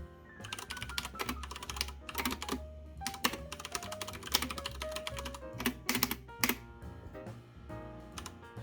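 A Ducky One 2 TKL mechanical keyboard with Cherry MX Brown switches is typed on at a quick, uneven pace, its keys making soft clacks close up, with quiet background music underneath.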